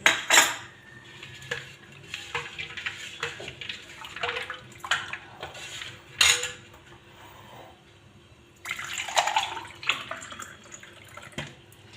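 Ice cubes and soaked chia seeds go into a glass of juice: a series of sharp clinks and knocks against the glass, then a short wet splashing stretch, with quiet gaps between the bursts.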